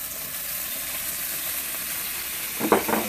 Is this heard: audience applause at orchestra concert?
no